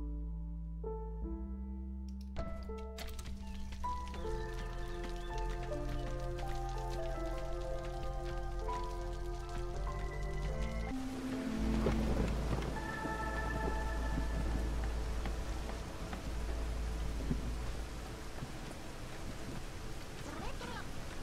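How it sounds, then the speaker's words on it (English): Steady rain hiss with low rumbling in the storm of the video game Against the Storm, playing continuously under layered musical tones and a voice talking. "Build a shelter so that we can survive the storm."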